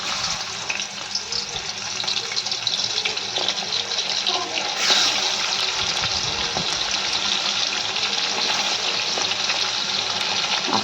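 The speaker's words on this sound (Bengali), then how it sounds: "মাছটাকে হালকা করে একটু ভেজে নেব।" Hilsa fish pieces frying lightly in hot mustard oil in a wok, a steady, dense sizzle that holds at a fairly loud, even level for the whole stretch with no talking.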